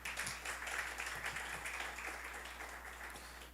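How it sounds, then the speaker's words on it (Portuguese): Congregation in a Portuguese-language church service claps during worship, a soft, distant wash of applause that gradually thins out over a few seconds, with no voice over it. "Você pode dar um aplauso ao Senhor?"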